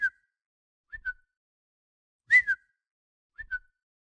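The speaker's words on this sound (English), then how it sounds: "pop-up notification" A computer pop-up notification chime sounds four times, each a short soft two-note tone, separated by silent gaps, with the third louder than the others.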